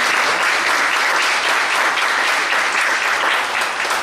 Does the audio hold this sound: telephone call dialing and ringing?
no